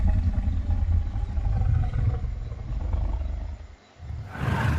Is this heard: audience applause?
no